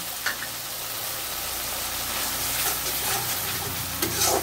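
Onion paste sizzling as it hits a pan of fish curry with tomato paste and potato, a dense steady hiss of frying close up, briefly swelling near the end.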